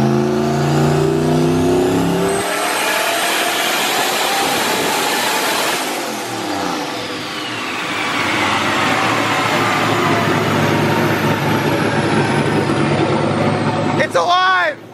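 A stock-turbo 5.3-liter LS V8 in an LS-swapped Infiniti pulls on a dyno at about 17 psi wastegate boost, its roar climbing loud and steady for several seconds before backing off, with a sharp burst near the end.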